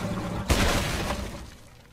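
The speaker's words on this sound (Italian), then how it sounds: "No, mi si è rotta la barra." Something shatters and breaks in the Adventure Time Pirates video game, a single loud crash with a glassy burst that decays over about a second.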